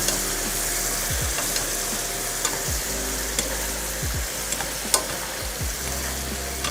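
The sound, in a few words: stir-frying mushrooms in soy sauce in a pan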